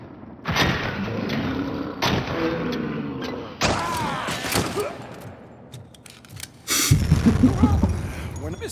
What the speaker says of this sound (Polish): Teraz coś wybuchło.